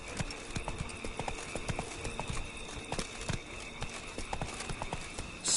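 Horse hooves clip-clop in a steady trotting rhythm in The Witcher 3 video game, close and fairly loud and continuous, with faint game ambience behind and no talking.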